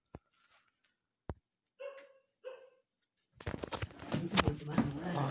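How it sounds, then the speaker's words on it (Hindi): Dog barks come in a few short, sharp bursts with gaps between them, followed by loud, dense noise as someone shouts at the dog indoors. "भागना भागना कुत्ते भागना"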